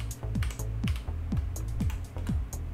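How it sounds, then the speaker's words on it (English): A number is typed on a computer keyboard, a quick close run of light key clicks over a low steady hum. "so you just type in a number."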